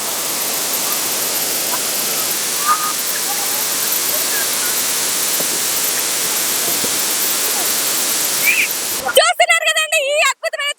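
Artificial waterfall at a Niagara Falls exhibition in Anantapur, a steady loud broadband roar of falling water running nearly unbroken for about nine seconds before it cuts abruptly to brief close speech.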